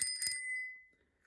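A vintage Hercules Commuter 3-speed ladies' bicycle bell rings with a quick double ding, the clear metallic tone lingering and decaying into silence.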